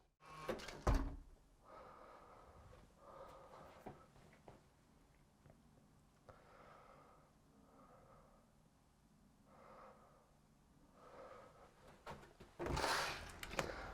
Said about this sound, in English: as the door gets clumsily closed, and he's going to kick it shut